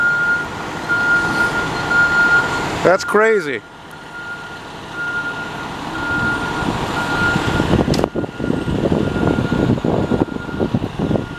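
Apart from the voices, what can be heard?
fire truck reversing with reversing beeps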